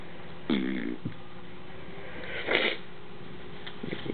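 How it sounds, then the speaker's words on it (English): Sniffles from someone getting sick, two or three short wet nasal sniffs spaced a couple of seconds apart, close and fairly soft in a quiet room. "Hear my stupid sniffles."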